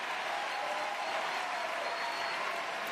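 A partisan crowd applauds at a wheelchair tennis match after the French side breaks serve, a steady, dense wash of clapping that holds evenly throughout.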